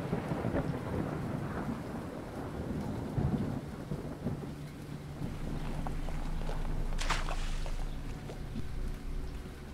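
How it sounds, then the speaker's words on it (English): Heavy rain with rolling thunder in a dark adventure game, Burnhouse Lane, a steady downpour hissing throughout while deep rumbles swell and a sharper crack breaks through near the end, with no talk. "we got a storm coming"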